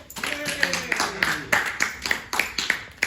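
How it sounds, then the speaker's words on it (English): A group claps together at a presentation at Harmony House, with uneven, scattered hand claps running throughout and voices talking over them. "Everybody gets the applause."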